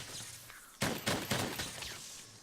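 A light bowgun in Monster Hunter: World fires burst shots: about four sharp, crackling volleys in quick succession, each a cluster of rapid rounds, loud and close with no talking.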